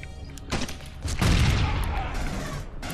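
A grenade going off in the Aliens: Colonial Marines co-op campaign, a heavy booming blast near the middle that swells into a sustained roar of debris and crackling gunfire, with earlier thumps and shots leading in.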